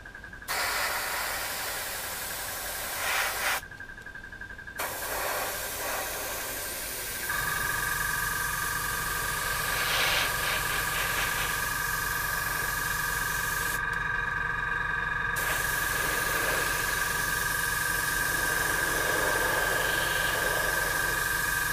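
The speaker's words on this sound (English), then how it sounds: "Right, I'm ready to start spraying, so away we go." Airbrush hissing steadily as it sprays paint onto a Tamiya 1/48 de Havilland Mosquito B Mk.IV plastic model kit, a continuous close airy spray with a constant whine from about the midpoint onward and short breaks early on.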